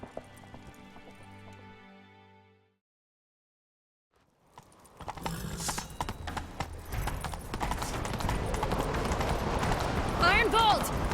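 A horse gallops in the video game The Witcher 3, with rhythmic hoofbeats starting after a brief silence and building steadily louder under a game soundscape, with a voice heard over it.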